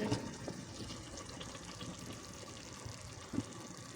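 Faint, steady rush of half a cup of water poured into a pan of potatoes and fenugreek, a soft continuous splashing with a small bump near the end.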